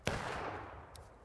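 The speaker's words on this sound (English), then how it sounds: "Nice volley." Musket volley in the Civil War shooter War of Rights: a single sharp crack of massed fire up close, rolling into a long decaying echo, with a fainter distant shot near the end.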